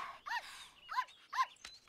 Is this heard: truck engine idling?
no